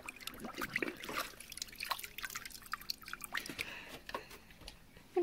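A German Shorthaired Pointer blows bubbles in water, producing faint, irregular gurgles, drips and wet squishing pops close by, with little else around.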